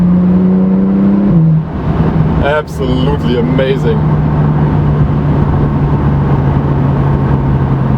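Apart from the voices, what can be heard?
Porsche 911 Turbo S (991) engine, 560 horsepower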